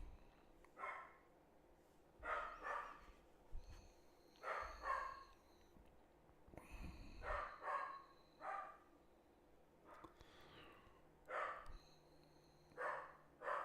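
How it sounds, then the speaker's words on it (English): Dogs bark in short bursts of two or three barks, repeated about a dozen times at irregular intervals. The barking is moderately distant and comes through a quiet indoor background with no talk. "Dogs in there barking already."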